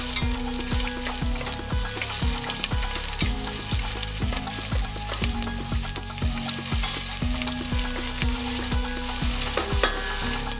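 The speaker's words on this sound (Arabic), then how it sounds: "منقليهم شوي بالزيت يلي صار حامي، منقلبهم شوي حتى يدبلوا" Chopped onion and a few garlic cloves fry steadily in hot olive oil for a winter red lentil soup, with a continuous close sizzle and repeated scraping stirs throughout, no talking.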